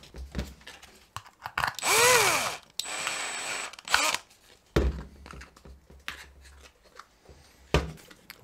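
A power drill whines in short bursts, spinning up and biting into material as it bores a pilot hole, with clunks and handling knocks between runs.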